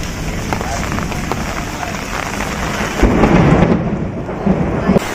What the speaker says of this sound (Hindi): देखिए बहुत तेज बारिश हो रही है